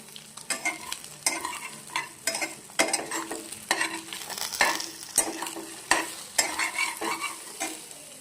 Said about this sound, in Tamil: இப்போது இது நம்ம கொஞ்சம் நல்லா ஃப்ரை பண்ணி எடுத்துக்கலாம்.